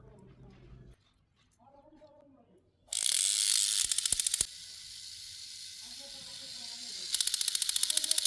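A small toy motor mechanism made from scrap parts starts when a battery is connected, giving a loud whirring hiss with rapid ratchety clicks that stops, then returns softer and later louder, with brief speech in between.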